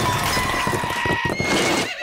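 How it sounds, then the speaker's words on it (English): A horse whinnies loudly and shrilly close by, mixed with the clatter of hooves and a dense burst of sound effects, all in a short energetic blast. "Gallop like the wind horse"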